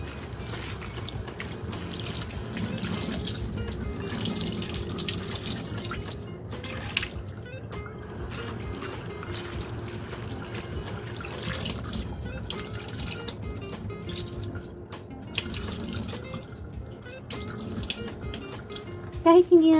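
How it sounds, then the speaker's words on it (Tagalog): Tap water runs steadily into a sink while sliced bitter melon is rinsed by hand, a continuous splashing trickle with occasional drips and handling clatter, close and fairly loud throughout. "Huhugasan na natin siya ng mabuti"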